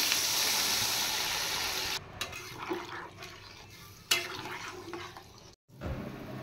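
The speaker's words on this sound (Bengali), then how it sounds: "এবার আমি দিয়ে দেব পরিমাণ মতো জল।" Water is poured into a pan of frying spices and potatoes for a boal fish curry, starting with a loud, rushing pour that gives way to softer sizzling, bubbling and occasional stirring clatter, all close by.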